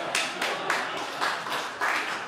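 An audience at a college history society's 250th anniversary launch claps in a short burst, several loud bands of clapping pulsing in quick succession from a nearby crowd.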